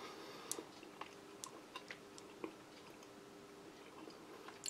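Mentos fruit chews with a crispy shell being chewed, faint soft clicks and squishy bites at an uneven pace, close but quiet, with no talking.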